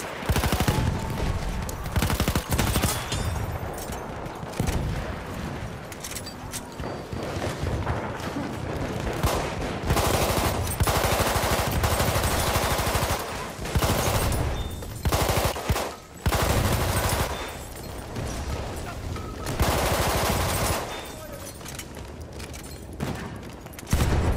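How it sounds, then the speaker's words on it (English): Sustained machine gun fire in the Battlefield 1 video game, loud and dense, with rapid bursts and booms layered over a chaotic battlefield for the whole stretch. "machine gun! Hostile!"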